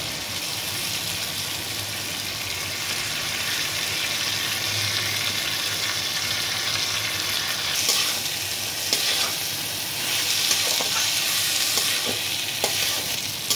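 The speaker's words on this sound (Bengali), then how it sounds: "চালটাকে আমি একটু ভেজে নেব" Washed Gobindobhog rice fries and gets stirred in a pan of cooked-down spices, giving a continuous loud close sizzle with scraping stirs and occasional clinks, and no one talking.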